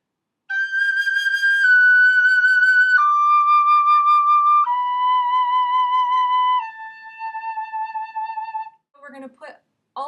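A tin whistle plays a slow phrase, several long sustained notes stepping downward with a slight wavering tone, close and alone, followed by a few short breathy notes.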